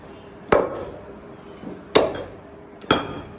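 Three heavy chops of a cleaver or knife strike through a meat joint on a wooden block, each a sharp, close thud spaced irregularly, with a faint background murmur between blows.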